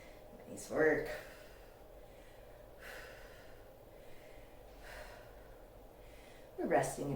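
Heavy breaths come in and out during a rest after upper body strength exercises, with loud gasping inhales near the start and end and softer breaths rising and falling between them.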